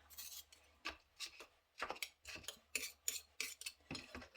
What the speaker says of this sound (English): try now to just get it all off the spoon